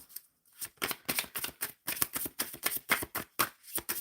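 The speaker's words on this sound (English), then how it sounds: "Shuffling for the collective for this pop-up reading." A tarot deck is shuffled by hand at close range, with rapid bursts of crisp riffling and flicking card edges broken by brief pauses.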